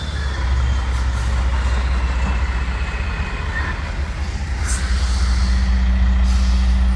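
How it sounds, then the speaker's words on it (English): A truck pulls away from a landscaping site in New Braunfels, Texas, its engine a loud, steady rumble throughout, with a brief hiss like an air brake release partway through. "There's the truck right there, he's leaving."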